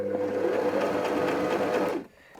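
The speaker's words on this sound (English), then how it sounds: "I'm going to start by sewing 5 or 6 bar tacks to start with" A sewing machine stitching bar tacks on a buttonhole stitch, a steady loud rapid whirring run of needle strokes lasting about two seconds before stopping abruptly.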